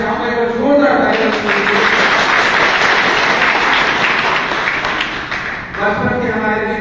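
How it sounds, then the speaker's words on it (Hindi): Loud, dense applause from a seated audience at a leadership training event fills most of the stretch, a continuous wash of many hands with speech heard before it starts and again as it fades. "मैं चाहूंगा एक जोरदार तालियां।"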